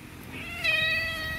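A black cat lets out a loud, drawn-out meow after spotting food, close and clear against a noisy indoor background.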